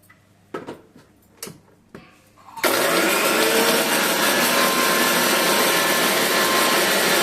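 A kitchen mixer grinder whirs at full speed, grinding a spoonful of cumin seeds with curry leaves into powder after a few knocks and clatters. The loud, steady drone continues to the end.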